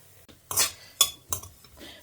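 Dried red chilies roasting in a pan for temple-style mango rice, stirred with a metal spoon that scrapes and clinks in a few distinct bursts, close and fairly quiet with no talking.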